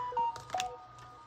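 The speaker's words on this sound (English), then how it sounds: "sorry guys, that's my phone." A mobile phone gives a short electronic notification tone, a couple of brief pitched chirps, at moderate volume during a quiet paper-crafting session.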